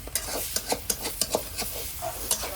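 Egg bhurji is stirred and fried in a pan, with a steady sizzle broken by repeated scraping strokes of a spatula at an irregular rhythm, close and moderately loud with no talking.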